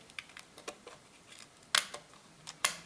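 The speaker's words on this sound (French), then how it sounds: "je prends les petits ciseaux pointus" Small pointed scissors snip crisply while trimming a flower-vase craft, a series of sharp, close clicks spaced irregularly, two of them louder, with no talking.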